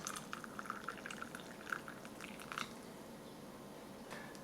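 Soft, steady pouring of water into a drink pouch from a Canadian military ration, with faint gurgles and small drips, close and quiet throughout.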